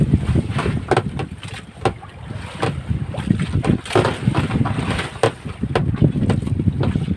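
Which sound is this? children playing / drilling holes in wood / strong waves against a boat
strong waves against a boat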